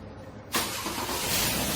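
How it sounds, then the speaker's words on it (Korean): A Hyundai Genesis DH with a 3.3 engine and multiple module fault codes cranks and fires. After a quiet moment, a sudden loud broadband burst of engine noise starts and settles into a steady running roar. "시동을 한번 걸어볼게요. 시동 걸어봐."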